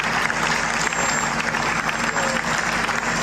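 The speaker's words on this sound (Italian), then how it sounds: "Un lungo applauso ha chiuso il momento solenne." Long, steady applause from a large crowd at a memorial ceremony in Sicily for the Borsellino escort victims, dense and continuous with no break, filling the whole stretch.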